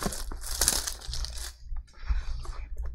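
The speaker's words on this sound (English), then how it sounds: "So tiny knife for the box, and then scissors for the packs." A tiny knife slices open a Weiss Schwarz Fujimi Fantasia Bunko booster box, heard as close crinkling, tearing cardboard and plastic rustles in short bursts.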